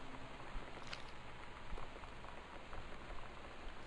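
Steady rain pattering on surfaces, with a dense hiss of drops and occasional heavier taps, heard indoors during a storm in the game Gone Home; constant and moderately loud with no talk.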